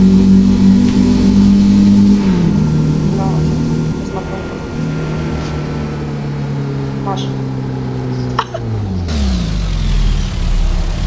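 A heavy truck engine in Euro Truck Simulator 2 drones loudly and steadily, its pitch dipping and rising as revs change, with people talking over it throughout.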